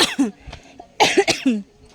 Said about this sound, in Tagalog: Yan, inuubo.